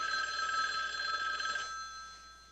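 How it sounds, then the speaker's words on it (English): An old telephone bell rings in a 1958 Mike Hammer TV episode, a continuous metallic trill that sounds moderately loud, then stops and fades out after about a second and a half, with no voices over it. "That must be the phone call we're expecting."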